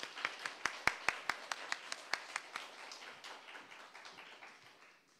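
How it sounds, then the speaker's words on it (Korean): Sparse applause from a church lecture audience welcoming a professor: a few distinct claps ring out in a slow run, then thin into faint, scattered patter in a reverberant hall. "우리 큰 박수로 우리 교수님 맞이하도록 하겠습니다."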